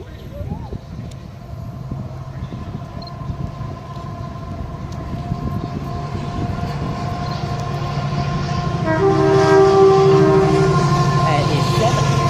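A Class 70 diesel locomotive hauls a train past on the West Coast Main Line at Nuneaton, a steady loud rumble building as it throttles up, with a sustained horn-like tone near the end and people talking nearby.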